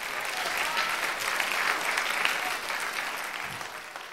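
An audience claps at a Tamil pattimandram debate stage program for a Vinayagar Chathurthi special, steady dense applause filling the hall for several seconds with no speech over it.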